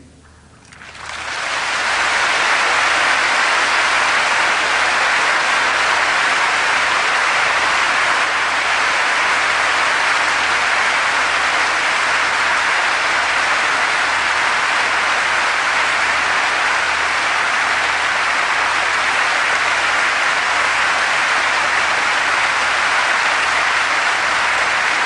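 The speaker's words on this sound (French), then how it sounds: "tous ces applaudissements à toi Seigneur" Loud, sustained applause from a large audience at a religious gathering: after a short quiet start the clapping swells within two seconds into a dense, steady roar that holds without a break for over twenty seconds, with no voices above it.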